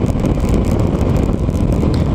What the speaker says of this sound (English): The wind's gotta be blowing